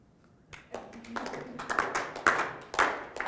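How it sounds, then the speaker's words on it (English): A conference audience claps together on request, loose claps quickly gathering into a roughly even rhythm of loud, fairly close hand claps. "Now clap again, but synchronize."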